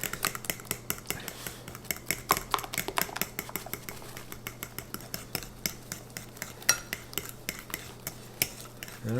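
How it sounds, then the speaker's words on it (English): A fork beats keto lemon bread batter in a bowl, giving rapid, steady clicking and scraping strokes that stay close and fairly loud throughout, with no voices. "I'm going to mix it in with my fork"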